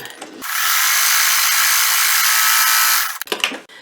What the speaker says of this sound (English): And let's just sew that baby down.